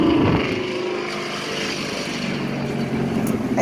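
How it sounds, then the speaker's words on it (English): A loud car passes close by on a city street beside an urban garden, a broad steady roar that swells at the start and end of the pass and fills the whole stretch. "Excuse the loud car going by"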